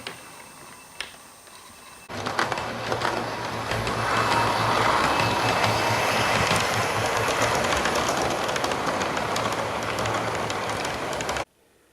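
A Heljan Class 47 model diesel locomotive runs along a model railway layout, a steady close mechanical whir with faint rail clicking that starts abruptly after two seconds and cuts off near the end.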